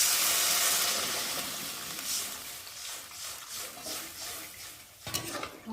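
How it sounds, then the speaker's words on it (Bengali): Water poured into frying masala for a fish curry sets off a loud sizzling hiss that fades into steady bubbling and stirring, with a spatula scraping the pot near the end. "দেখো এখন মশলাটার মধ্যে আমি এখন জল দিয়ে দেবো।"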